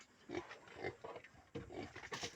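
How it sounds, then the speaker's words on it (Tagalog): Young pet piglets grunt and squeal close by in a few short bursts, the squeals rising sharply near the end, with no talk over them. "paliguan ko muna itong aking mga alagang biik"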